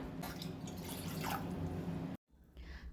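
Water being poured into a wide cooking vessel, a steady close splashing and trickling stream for about two seconds before cutting off, then a fainter drip or rinse afterward.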